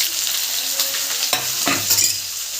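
Chopped onions going into hot white oil with whole garam masala in a wok, a steady close sizzle with a few sharp crackles and stirring scrapes over about two and a half seconds.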